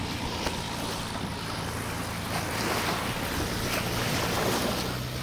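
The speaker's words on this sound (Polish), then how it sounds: "Te łódki robią duże fale." Steady wash of water and waves from passing boats at Ao Nang, Thailand, under gusty wind, with a low motor hum in the background, continuous throughout.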